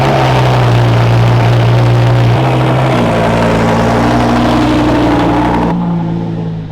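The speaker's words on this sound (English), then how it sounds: "So the Gallardo, this thing is one crazy car to drive. You got the big V10 engine." Loud, close Lamborghini Gallardo V10 revving hard, a deep steady roar with pitch shifts as it climbs and eases, then tapering off near the end.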